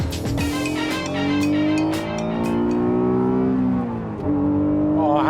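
Honda NSX on a race track, its engine induction noise rising and falling through gear changes with a near, loud, continuous roar and a brief tire squeal, no talking.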